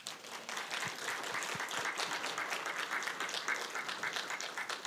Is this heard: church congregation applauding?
yes